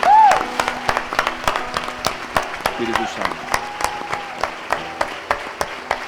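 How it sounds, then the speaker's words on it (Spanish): A church congregation claps in a fast, even rhythm of sharp claps, loud and close, while a voice speaks over the clapping at the start. "Vamos a dar un gran fuerte aplauso al Espíritu Santo de Dios."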